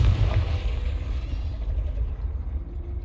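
A fiery Confringo spell bursts in Hogwarts Legacy, a deep rumbling blast with a heavy low boom at the start that rolls on loudly and steadily for a few seconds.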